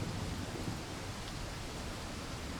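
Steady rain in the horror video game Corpse Factory, a constant broadband hiss at low level with no voices over it.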